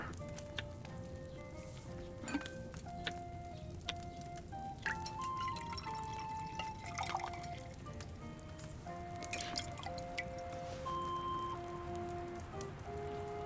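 Liquid poured into an alchemy vessel in Kingdom Come: Deliverance II, a steady dripping, splashing trickle lasting several seconds over soft game music.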